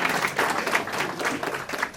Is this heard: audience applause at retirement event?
yes